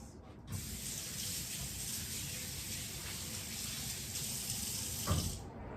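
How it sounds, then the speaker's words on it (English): Hands being washed under a running sink tap in a home kitchen, a steady close hiss of flowing water lasting several seconds with a brief splashy swell near the end, no voices. "Wash my hands."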